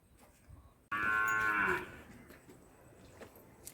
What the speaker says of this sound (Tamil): இப்போ கணுகுட்டி வந்து கத்திக்கினே இருக்குது.